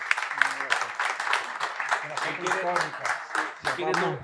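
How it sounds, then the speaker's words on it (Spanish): An audience applauds with scattered clapping at a Spanish television programme while people talk over it, the clapping uneven and partly masked by voices. "Un fuerte aplauso"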